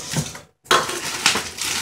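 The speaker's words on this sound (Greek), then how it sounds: "Το ανοίγουμε με ένα μαχαιράκι." A small knife slicing open the plastic packaging of a printer toner cartridge, giving close crinkly scraping and tearing, broken by a brief silent pause before the rustling resumes.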